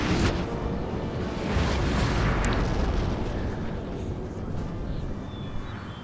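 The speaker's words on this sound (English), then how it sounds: "As I have my artillery set up here, they're going to start firing at the enemy artillery." Cannon artillery firing in the Napoleon Total War video game during the Battle of Ligny, deep booming blasts rolling into a continuous loud rumble of battle.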